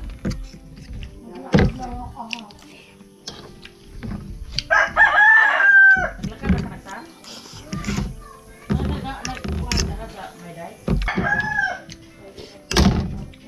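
Backyard chickens with a rooster crowing twice amid clucks, dull thumps and scattered voices talking nearby.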